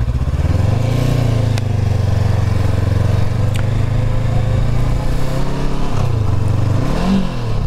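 A motorcycle engine runs loud and close the whole time, a steady throbbing drone that dips and then surges in pitch near the end, suggesting a shift into gear that doesn't hold.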